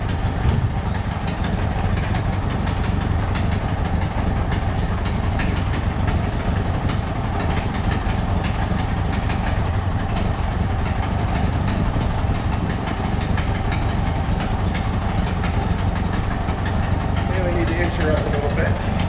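A fire truck engine idles steadily with a low, continuous rumble throughout, as the truck is inched forward; people talk nearby over the constant drone.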